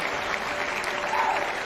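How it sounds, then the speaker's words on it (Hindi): Applause from an audience at a DXN business presentation, a moderate, continuous patter of clapping at a medium distance, with no one speaking over it. "एक जोरदार ताली डीएक्सएन के लिए"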